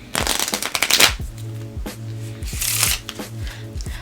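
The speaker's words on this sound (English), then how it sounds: "I would like you to please shuffle the deck" A deck of playing cards is riffle-shuffled up close, two bursts of rapid fluttering card flicks, each followed by the soft clack of the cards being squared, with a low steady hum underneath.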